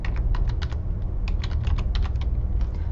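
A computer keyboard clatters with quick, uneven bursts of keystrokes, close and fairly quiet, over a low steady background hum.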